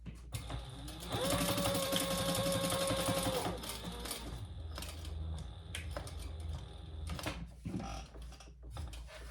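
Sewing machine running a chain stitch along the sides of a fabric eyeglass case, a steady close whirring burst of stitching that slows and stops, followed by softer handling clatter.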